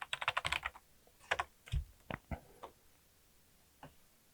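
Keyboard typing in bursts of clicks while entering a Gradle clean build command into a build tool, several rapid keystrokes at the start followed by scattered single key taps, close and clear with no talking.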